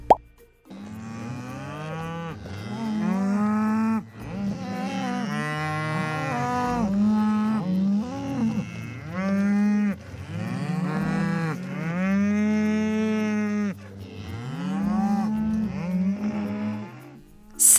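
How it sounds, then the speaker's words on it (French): A cow moos repeatedly in long, drawn-out calls, loud and close, with brief pauses between the lowing bellows. "Le premier animal de basse-cour est la vache."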